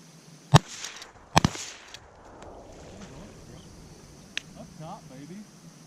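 Two sharp shotgun blasts from an old Remington 870 pump-action during a public-land teal hunt in Nebraska, a single loud report followed by a quick double crack, outdoors with wind and faint background sounds.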